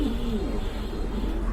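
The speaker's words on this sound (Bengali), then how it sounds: "এই যে দেখেন নটটা কতটা তেজি কবুতর" Pigeons cooing close by, a low throaty warble over a constant background hum, without any talk.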